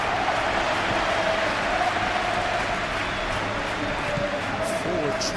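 A stadium crowd in the football video game PES 21, during a Champions League match between Real Madrid and Bayern Munich, produces a loud, constant roar of applause and cheering that holds at an even level throughout.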